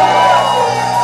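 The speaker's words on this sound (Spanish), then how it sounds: "Un grito de júbilo." A church congregation at a Sunday worship service raises a loud, sustained shout of joy, a dense crowd of voices yelling together close by.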